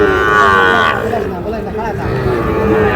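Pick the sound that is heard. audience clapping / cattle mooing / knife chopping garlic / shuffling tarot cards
cattle mooing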